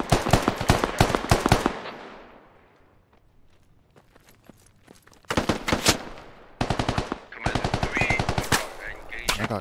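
Gunfire in the tactical shooter game Squad: rapid bursts of close, sharp automatic shots, a fading quieter stretch with scattered distant pops, then renewed loud volleys.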